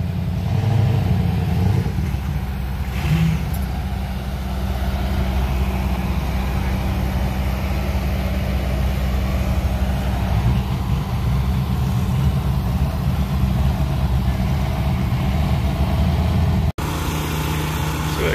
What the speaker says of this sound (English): Check out this Dodge Ram